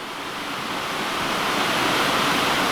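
Water rushing down into the mill shaft at Mingus Mill in the Great Smoky Mountains, a steady, dense roar of fast-moving water building slightly louder throughout, close and continuous with no voices.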